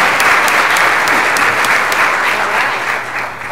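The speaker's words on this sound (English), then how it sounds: "So if we can have a round of applause to start them off." A room full of people at a stakeholder summit general session applauds warmly, a dense even clatter of clapping that holds steady before tapering slightly at the end.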